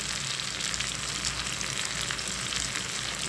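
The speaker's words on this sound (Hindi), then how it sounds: "मसाले को अच्छी तरीके से भून लेंगे।" Ground spices frying in hot oil for an egg ghotala, a dense, even sizzle heard close up and continuous throughout.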